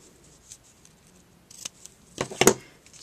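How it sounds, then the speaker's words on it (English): Scissors trimming ribbon for a birthday card, a few quick close snips clustered near the end, with faint rustling before them. "we'll just trim up our ribbon"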